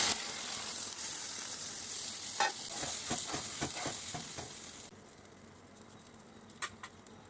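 Paneer, potato and pointed gourd fry in a pan with a steady sizzle and a few stirring knocks, then the hiss drops sharply as water goes in, leaving a quieter simmer with a couple of clinks.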